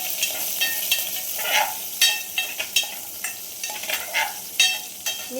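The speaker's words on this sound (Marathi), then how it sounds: "आता लसूण आणि मिरच्या टाकायच्या। असं तडतडलं तेव्हाच छान वाटतं, म्हणजे कडक फोडणी होती तेव्हा कडक।" Garlic and green chillies crackle in hot oil for a tempering, giving sharp, irregular pops and sizzles with a few louder bursts, heard up close with no talking.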